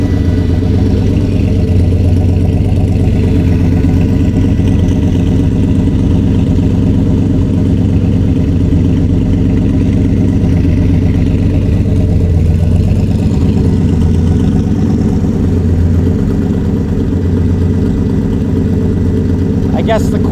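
A Corvette engine idles with a steady low rumble as the car is pulled into a paint shop, the sound continuous and fairly loud throughout, with people talking over it.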